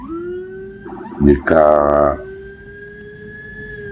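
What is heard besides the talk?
ambulance siren in traffic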